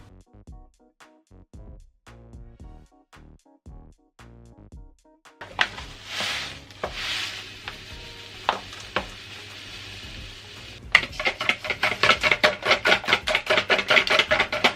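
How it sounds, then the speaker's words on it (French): Three eggs are mixed with sugar in a mixing bowl: sparse taps at first, then steady scraping, and finally fast, rhythmic whisking strokes against the bowl that grow louder and denser. "dans un saladier, je vais mélanger les 3 œufs avec le sucre"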